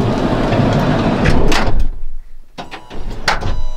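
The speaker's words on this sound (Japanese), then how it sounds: "でドアを閉めてみて" A car door is shut during a DIY camper conversion that switches cabin lighting between the main and auxiliary batteries. Broadband noise gives way to a solid thunk, a short quiet gap, then a few sharp knocks and rustles.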